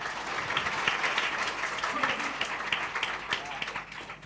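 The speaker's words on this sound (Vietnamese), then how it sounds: "Hãy làm được như thế là hãy cùng tôi một lần nữa vỗ tay cảm ơn Chúa." Church congregation claps together in thanks to God during a Vietnamese sermon, a fairly faint, steady wash of applause that tapers off near the end, with a voice over it.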